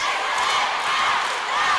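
A crowd at a basketball game in Paco Arena roars in a steady, dense wall of cheering that stays loud for the whole stretch, with no single voice standing out.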